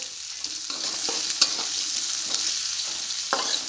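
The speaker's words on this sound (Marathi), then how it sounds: "आता याला व्यवस्थित हलवून आपल्याला सोनेरी कलर येईपर्यंत याला कांद्याला छान तळून घ्यायचे" Chopped onion frying in a pan for egg bhurji, with a steady close sizzle and a few sharp scrapes of a spoon stirring it, and no voices.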